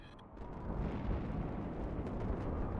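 Huge explosions from ship hits in the naval combat game Highfleet, a dense, sustained roaring blast rumble with no distinct separate bangs.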